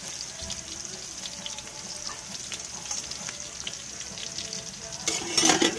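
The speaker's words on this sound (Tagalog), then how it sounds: "igigisa po natin yung bawang" Garlic sautéing in a pan for dinuguang baboy, a steady soft sizzle with scattered crackles and stirring, growing louder and brighter near the end.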